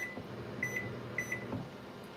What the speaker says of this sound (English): take your microwave timer, put 30 on the clock